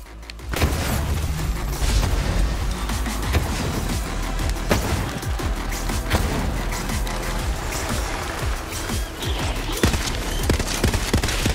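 A shotgun blasting away nonstop in a Borderlands 3 boss fight, loud dense booms and impacts piling into a continuous roar with no clear gaps between the shots.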